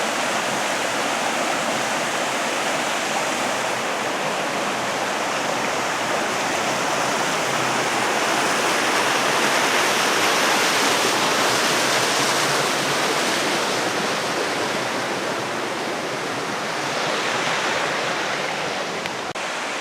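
Creek flowing beside a hiking trail near Owyhigh Lakes on Mount Rainier, a steady loud rushing of water close by that continues without a break and with no voices.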